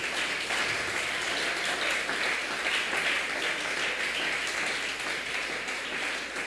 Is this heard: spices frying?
no